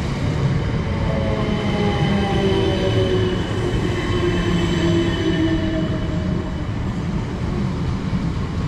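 A Class 455 electric train on the Hounslow Loop line runs past steadily and loudly close by, with a continuous rumble of wheels and a faint squeal of rails throughout and no talking.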